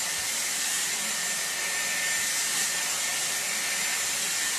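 A Dyson Airwrap styler with a round brush attachment blow-drying hair, giving a steady, even rush of blown air that stays constant throughout with no pauses.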